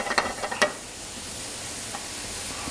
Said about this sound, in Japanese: まず玉ねぎを炒めます。